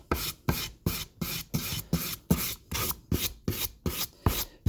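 A wooden neck is sanded by hand in a steady rhythm of about a dozen rasping back-and-forth strokes, close and fairly loud, with no talking.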